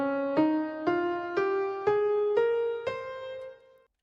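Six synthesized piano notes climb one by one up a Phrygian mode scale in an even, moderate rhythm, each note ringing clearly until the last fades out.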